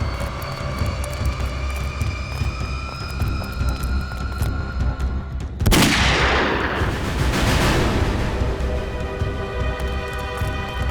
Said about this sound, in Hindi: गोली चलने की आवाज।